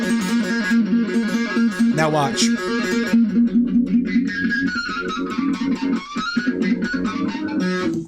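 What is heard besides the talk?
electric guitar harmonics made by scraping the hand along strings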